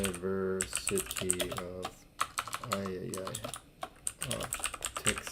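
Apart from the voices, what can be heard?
typing on a computer keyboard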